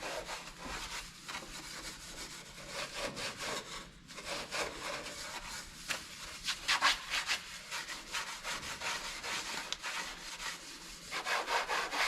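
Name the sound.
wiping a truck body panel clean with a rag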